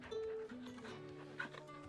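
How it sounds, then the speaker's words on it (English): A dog in the Final Fantasy XVI video game gives faint barks and whimpers over quiet game ambience, with short, soft yelps scattered through a low background. "I'm trying to talk to my dog."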